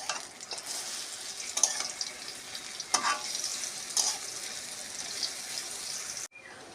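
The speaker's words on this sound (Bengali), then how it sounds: "বড়াটা ভাজার সময় স্টিমটা একদম কমিয়ে নেবেন।" Lentil fritters (dal bora) frying in a pan of oil give a steady, fairly loud sizzle with a few sharper pops and stirring clicks, then cut off abruptly near the end.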